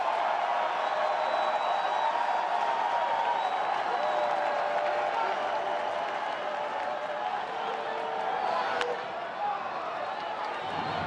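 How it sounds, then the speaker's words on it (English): Baseball fans applaud at a Giants-at-Cubs game at the Chicago ballpark in April 2013. A broad, steady wash of distant crowd clapping sits under a broadcaster's continuous commentary. "And the fans are applauding."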